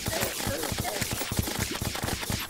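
Rapid weapon fire in the video game Terraria, a dense, continuous stream of quick shots at steady loudness throughout, with a clutter of other game effects layered over it.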